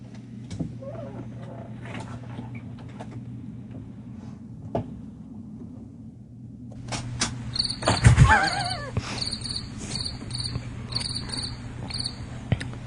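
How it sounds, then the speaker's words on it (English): Crickets chirping as a comedic silence sound effect, a steady high-pitched trilling that runs continuously, with a brief rustle and a few faint clicks partway through and no voices. "Had to wake up the crickets"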